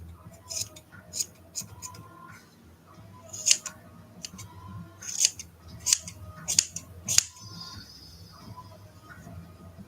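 Big scissors make a rough preliminary trim of art doll material, a series of crisp metallic snips coming in uneven bursts, close and fairly quiet with faint background hum.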